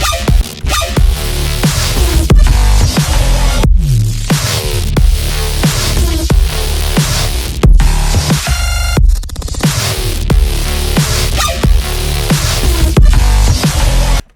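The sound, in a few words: Serum synth patch remaking a track, processed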